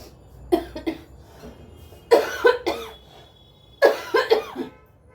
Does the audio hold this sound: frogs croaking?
no